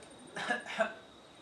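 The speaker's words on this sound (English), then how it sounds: "So can I get you to cough and swallow?" Two quick coughs in close succession, fairly near, followed by quiet.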